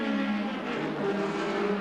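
A Peter Jackson Ford Sierra touring car pulling out of the pits during the 1990 Bathurst 1000, a steady droning engine note held close and fairly loud, with some crowd and track ambience.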